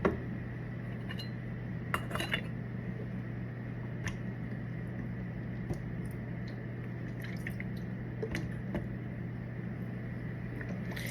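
Homemade tomato sauce ladled into glass jars gives scattered clinks and taps of glass and utensils over a steady kitchen hum, with soft drips and liquid squishes between.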